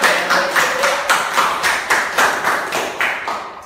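Junior high students in an Indonesian-language class clap together in a steady rhythmic beat, about eight or nine even, loud claps with no talking.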